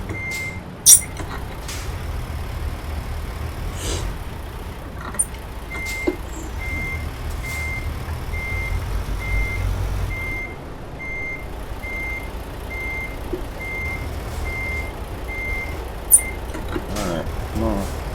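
Peterbilt 389 truck in Euro Truck Simulator 2, a steady low engine rumble with a repeating reversing beep and a few sharp clicks, a voice talking now and then.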